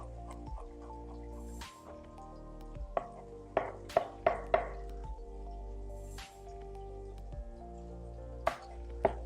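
Garlic being minced with a knife on a cutting board for a chicken stew, a scattered series of crisp taps and chops, some clustered in quick runs, close and clear over a steady background hum.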